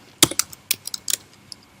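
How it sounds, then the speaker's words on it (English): A command typed on a computer keyboard: a quick, irregular run of crisp, close keystroke clicks, about a dozen taps with short pauses between, alone in a quiet room. "I do that by typing the command describe."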